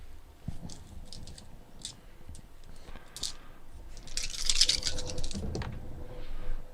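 Dice rolled in three sets during a BattleTech tabletop game, a run of quick clattering rattles and clicks on a table over several seconds, close and moderately loud.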